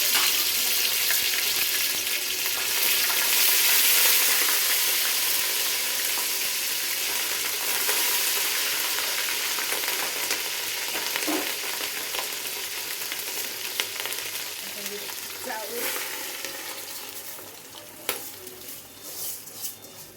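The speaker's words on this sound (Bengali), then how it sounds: "রসুন বাটা, আদা বাটা দিয়ে দিলাম" Garlic and ginger paste sizzles loudly in hot oil in a pan, a bright continuous frying hiss that slowly eases. Scraping stirring sounds follow toward the end.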